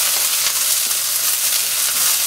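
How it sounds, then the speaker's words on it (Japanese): Shredded cabbage stir-fried in very hot oil in a wok, a steady close broadband sizzle with faint stirring scrapes running continuously without any talk. "今から材料炒めます。 はい、 キャベツ細切り 150g です。"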